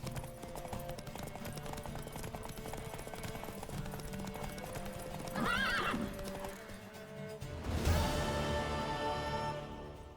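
Horse hooves clip-clop at a steady pace with a horse whinnying partway through, over a busy layer of game music and ambience in The Witcher 3: Wild Hunt.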